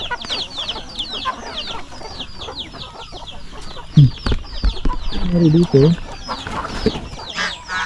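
Chickens and turkeys cluck and call on a mixed farm flock, a steady scatter of clucks and squawks near and far, with a louder burst of calls near the middle and a voice speaking briefly over them.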